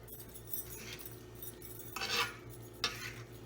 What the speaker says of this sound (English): I'm just going to use my double fork to just kind of incorporate the sausage into the zoodles